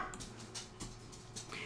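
Pet dogs bark indoors in several short, sharp bursts spaced through the moment, fairly faint and a little distant over a low household hum.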